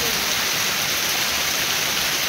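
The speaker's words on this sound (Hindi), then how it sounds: "देख एते जोर वर्षा होउची" Heavy rain pours down in a steady, dense, unbroken hiss that stays loud and close throughout, with no voices present.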